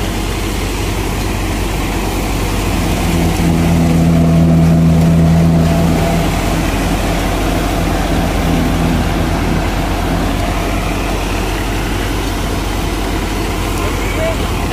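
A steady, low tractor engine rumble runs throughout, idling at an even pace with a slight swell in the middle, with voices talking over it during mustard threshing.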